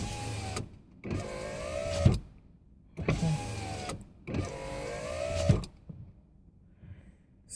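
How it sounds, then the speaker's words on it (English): Power windows on a 2002 Nissan Sentra Spec V run in three separate bursts, each roughly a second of close, loud motor whine that ends with a thunk, with brief quiet gaps between them. "We got back windows going."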